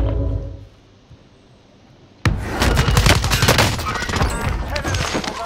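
Video game gunfire from MP5 and MAC-10 submachine guns in a battle-royale match: a quiet start, then a sudden, loud, dense burst of rapid automatic fire and impacts that continues without a break.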